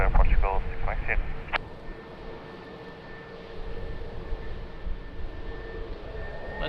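Airliner at Lisbon Airport starting its takeoff roll on runway 02 in windy conditions, a steady broadband engine roar with a thin high whine, under a brief radio voice at the start.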